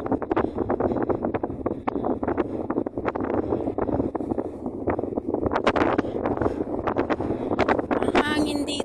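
Strong gusty wind on a sand dune in the desert buffets the microphone in a constant roar, with rustling bursts and brief indistinct voices under it.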